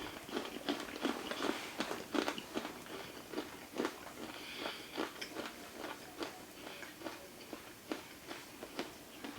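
Close, fairly faint chewing of extremely hot Death Nut peanuts, with repeated crunchy bites and mastication across the whole stretch and no talk.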